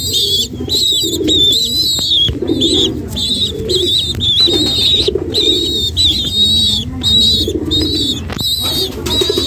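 Pigeons coo steadily and loudly up close, their repeated throaty calls overlapping in a continuous rhythm with no one speaking.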